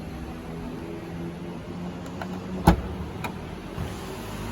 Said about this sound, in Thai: ประตูหลังเป็นระบบไฟฟ้า